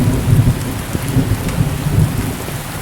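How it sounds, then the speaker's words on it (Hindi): Heavy rain pours steadily through a dark jungle while deep thunder rumbles close by, a dense continuous wash of water with low booming swells and no voices. "तो दोस्तों बारिश तो तेज़ हो गई है"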